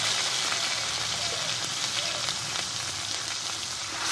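Ground ginger, green chilli and cumin paste sizzle steadily in hot oil with turmeric, a close, continuous crackling fry with faint stirring scrapes and no breaks.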